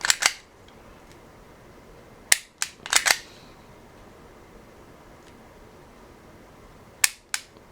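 Sig Sauer P320 9mm centerfire trigger snapping sharply several times: a crisp double click near the start, a quick cluster of three around the middle, and another pair near the end, each loud and close against near silence.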